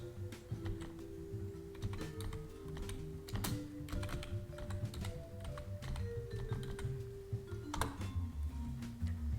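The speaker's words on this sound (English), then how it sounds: "by typing in this command." Fingers type a command on a computer keyboard running macOS Big Sur, a quick, close run of crisp clicking keystrokes that continues steadily for about nine seconds, with no talking.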